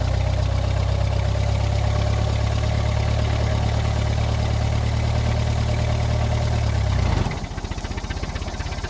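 A Ford Model T engine runs loud and close in first gear with a deep, steady droning rumble, then the tone shifts abruptly into a lighter, faster clatter near the end.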